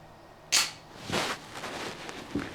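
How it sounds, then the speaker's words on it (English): Sharp pistol reports from a Colt Gold Cup National Match 1911 at an outdoor range, one loud crack followed by two more spaced shots, each trailing off in a brief echo. "I just love shooting the 1911"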